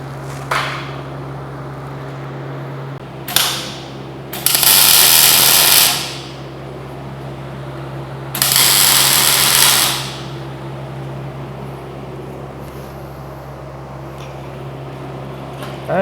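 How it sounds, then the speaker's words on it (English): Tack welding a pipe on a shop-made welding positioner, with two bursts of bright crackling hiss separated by quiet shop hum and a few shorter sputters, close and fairly loud. "we'll go ahead and tack it up"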